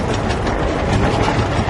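Passing train heard from up close as a steady, loud broadband rumble and rattle of rail cars rolling along the track, continuous throughout with no talking.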